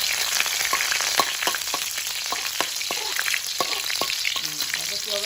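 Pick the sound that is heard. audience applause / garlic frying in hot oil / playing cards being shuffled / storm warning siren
garlic frying in hot oil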